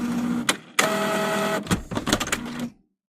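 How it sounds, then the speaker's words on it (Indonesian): Printer or photocopier running for about three seconds, loud and close, with whirring feed passes, clunks and mechanical clicks before it stops abruptly into silence. "aku tuh suka dengar suara printer, suara mesin fotokopi kayak beroperasi gitu"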